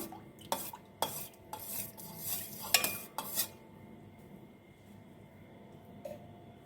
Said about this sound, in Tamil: இப்போ இது நல்லா கலந்து விட்டுடலாம்.